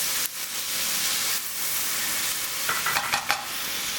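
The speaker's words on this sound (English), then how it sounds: "we're gonna deglaze this in the pan with a little bit of orange juice" A hot pan deglazed with orange juice for pulled jackfruit hisses in a loud, steady sizzle, with a few stirring scrapes near the end and no voices.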